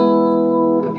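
An electric guitar played through the clean channel of a Bluguitar AMP1 tube amp rings out as a sustained, clean chord, close and loud, ending with a sharp pick attack.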